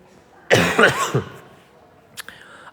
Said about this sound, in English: still dealing with a nasty cough